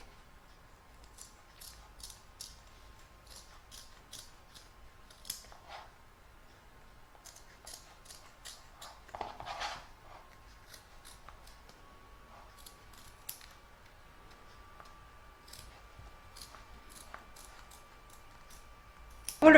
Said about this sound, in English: I'm going to cut away from the back and trim around the edge of the stitching